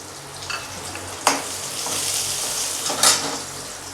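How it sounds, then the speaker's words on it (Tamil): Chopped onions hit hot oil with popped mustard seeds for a coconut chutney seasoning, crackling and sizzling steadily up close with a couple of sharp spatters and stirring clinks. "கடுகு பொரிஞ்சதும் பொடியாக கட் பண்ணி வச்சுருக்க வெங்காயத்தை சேர்த்துக்கலாம்"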